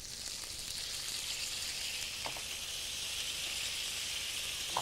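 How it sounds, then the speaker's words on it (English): White wine sizzles as it is poured over golden chicken pieces frying in olive oil and butter, a steady loud hiss throughout with a few brief crackles. "makes it sizzle when you add the wine"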